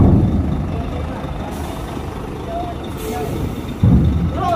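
A heavy European truck strains to board a ship at Merak port: a low diesel engine labours under load, with brief hissing and a loud thump near the end, close by and steady.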